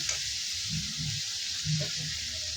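Spice masala with ginger garlic paste sizzles in a pan for chicken kosha, a steady bright hiss with a few soft low stirring thumps underneath, close and alone.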